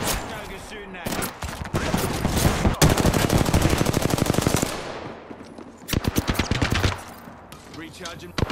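Video game gunfire crackles in rapid automatic bursts, loud and close, with long sustained streams of shots broken by short gaps and a final volley, while a voice talks intermittently underneath.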